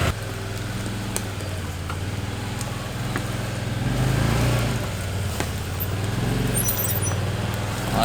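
Can-Am Defender side-by-side crawling over a stump on a trail, engine droning steadily up close with a brief swell in revs and occasional knocks and squeaks from the chassis.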